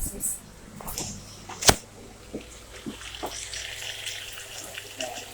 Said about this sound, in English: Let me just stir the tomato.